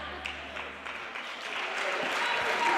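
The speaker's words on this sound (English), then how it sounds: "there's a very good round of applause there from everybody in the arena" Applause from the audience in a judo arena at a school games event, a broad wash of clapping that swells and grows louder toward the end, with a commentator talking over it.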